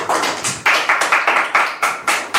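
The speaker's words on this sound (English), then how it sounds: "Clap for everyone." A small group of students clapping in a quick, fairly even series of about a dozen sharp claps, close and moderately loud, with no voices over it.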